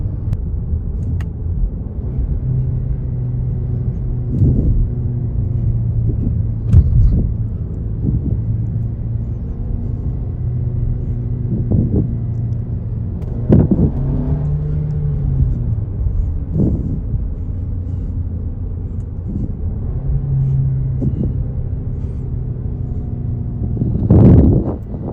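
Volkswagen Arteon engine droning steadily as the car accelerates through gears with paddle shifters, low rumble rising in pitch and dropping at each shift, a few sharper bumps and cabin noise throughout, no talking.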